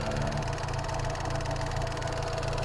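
An old Fiat Panda engine, damaged by mice, idles close by with a steady, slightly uneven low rumble and rhythmic knocking pulse.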